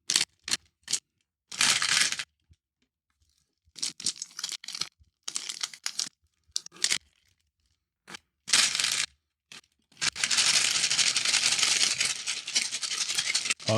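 Dice rattle inside the Tesseract game cube as it is shaken in repeated short bursts, then one longer stretch of continuous clattering, close and crisp with silent gaps between.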